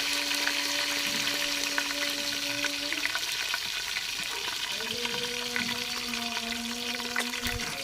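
Curry leaves and fenugreek seeds sizzle steadily in hot oil, a loud, continuous crackling hiss close by with no talking.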